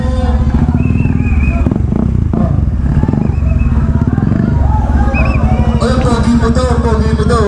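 Many motorcycles revving and idling at a crowded grand opening of a moto avenue, loud continuous engine rumble with a crowd murmuring and people talking close by.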